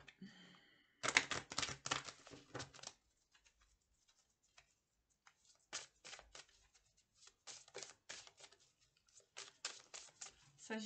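Tarot cards are shuffled in bursts of rapid, close-up riffling and flicking, broken by quiet pauses, under faint talk.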